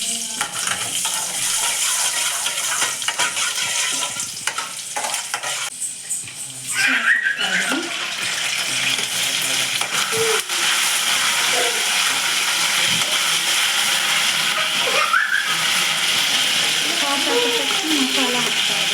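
Tempering sizzles in a pan for a gobi cauliflower recipe, a constant loud frying hiss throughout with small clinks and stirring, while a voice talks over it.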